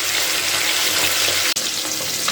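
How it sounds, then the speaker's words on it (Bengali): Rohu fish frying in hot oil in a wok, a steady dense sizzle that holds loud and even throughout, broken once by a brief sharp dip before the crackle resumes. "ভালো করে মাছটাকে ভেজে নিচ্ছি"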